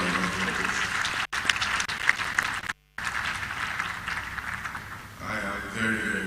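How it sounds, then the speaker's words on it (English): A crowd applauds steadily, dense clapping filling the room, with a brief break midway before it continues and tapers slightly toward the end. "Please give yourselves a round of applause."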